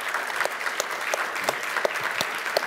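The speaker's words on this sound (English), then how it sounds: "let's have a round of applause for our panelists" Audience applause for a panel of speakers at a tech conference session, a steady patter of many hands clapping at moderate distance, with no talk over it.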